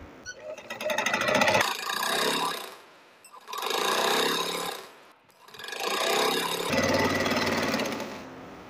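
A sewing machine runs in three sustained bursts with short pauses between them, stitching decorative zigzag cord and a fashion strip onto a garment, close and loud with no talk.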